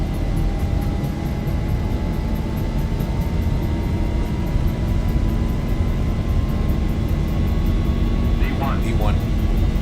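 Boeing 737 jet engines at takeoff thrust in X-Plane roar steadily and loudly, with a slowly rising whine running through the broadband rush over ten seconds, and a voice speaks briefly over it.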